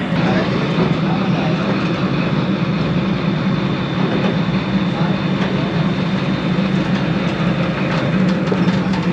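Ravi Express passenger train rolling along a classic branch line out of Shorkot Cantonment, a steady, loud, continuous rumble of cars and track noise with faint clicking throughout, heard from on board.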